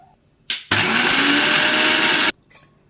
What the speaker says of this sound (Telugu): ముందుగా పల్లీలను వేసుకొని ఒక రెండు రౌండ్లు తిప్పేసి